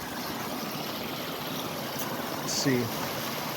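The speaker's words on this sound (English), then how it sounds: "So there's the creek today." A creek in a natural area flows in a constant, close rush of water along a trail, and someone briefly speaks near the end.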